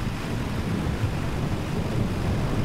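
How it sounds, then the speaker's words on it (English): A video-game thunderstorm fills the scene with a dense, continuous low rumble of thunder mixed with rain and wind noise, steady and loud with no talk. "Look at this storm, though."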